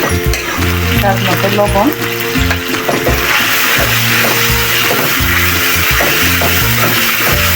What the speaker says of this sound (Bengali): এখন আমি এটা ভালো করে কষাই নিই।